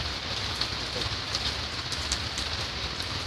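Steady rain falls during the first rain of the season, a dense, even hiss of drops striking surfaces, continuous and fairly close, with no voices over it.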